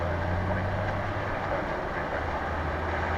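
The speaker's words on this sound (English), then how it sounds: "it's an American Airlines plane coming in from San Antonio, flight 2012" American Airlines flight 2012 from San Antonio arrives at Dallas Fort Worth airport, heard as a steady, loud, low jet rumble that holds throughout, with no talking.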